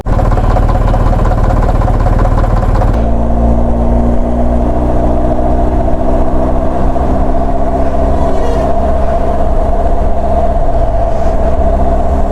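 A BMW R1250GS motorcycle rides along a road with a loud, steady engine drone and rushing wind close up, its pitch shifting as it changes speed partway through, with no voices heard.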